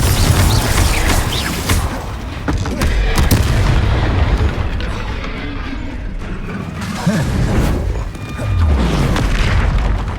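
Confringo fire spells from Hogwarts Legacy detonating in repeated loud booming blasts, dense and continuous with mechanical clatter and combat effects layered together, a busy game battle with a voice briefly audible.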